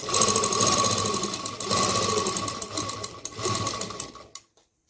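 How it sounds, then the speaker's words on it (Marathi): A sewing machine runs a straight stitch along the margin of a double-layer saree made from blouse-piece fabric, a steady dense motor whir with rapid needle clatter that holds for about four seconds, dips briefly, then stops. "तिथूनच आपल्याला स्ट्रेट शिलाई करून घ्यायची आहे."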